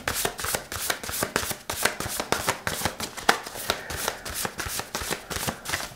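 Tarot cards being shuffled by hand before one is drawn, a quick run of crisp riffling flicks and soft slaps repeating close up for several seconds, with no voices.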